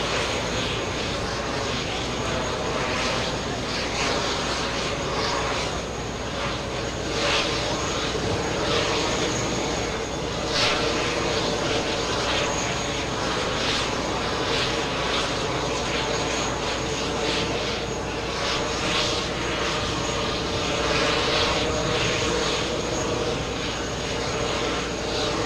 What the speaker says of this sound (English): There goes the 767 off to Terminal 4.